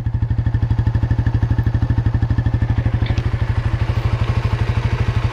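A Yamaha motorcycle engine, successor to the Byson, idles steadily just after starting, a loud, close, even low putter with a regular rhythm and no talk.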